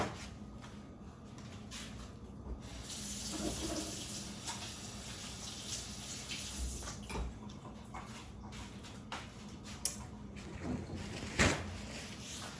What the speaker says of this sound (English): I'm gonna wash them again.